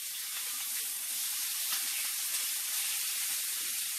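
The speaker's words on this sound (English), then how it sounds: "let those sear on the other side" Chicken pieces searing in a hot pan give off a steady, soft sizzling hiss, continuous and even throughout, with no talking.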